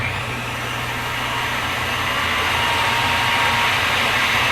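A blender on low speed grinding recipe ingredients, producing a continuous loud motor whir that holds steady and builds slightly, with no voices.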